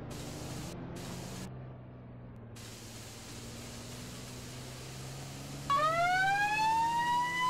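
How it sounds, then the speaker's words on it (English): Fire truck siren in the Liberty County video game, starting with a low engine drone and then a rising, wailing siren that comes in loudly near the end over steady background noise, with no voices. "There's a fire truck coming."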